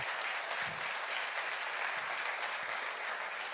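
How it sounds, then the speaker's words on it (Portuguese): A church congregation at a Portuguese-language worship service applauds steadily, a continuous wash of many hands clapping at moderate distance with no talking, holding even throughout. "Aplauda Jesus,"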